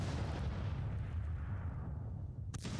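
Two artillery batteries in Grand Tactician, a Civil War strategy game, firing at rebel guns, heard as a dense, rumbling roar of sustained cannon fire, fairly distant and continuous, with a sharper report near the end.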